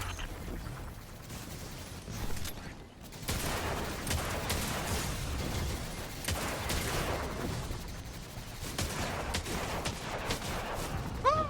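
Gunfire in the sci-fi shooter Destiny 2, a dense continuous barrage of rapid shots and bursts with explosive thumps and mechanical clatter, loud and close, running almost nonstop through the battle with only a brief lull.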